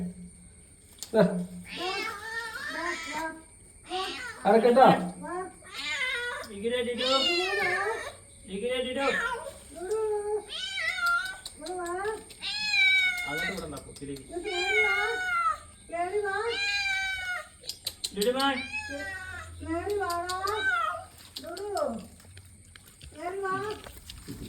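A cat trapped in a disused well meows repeatedly, long drawn-out wailing cries one after another, loud and close, with brief gaps between calls.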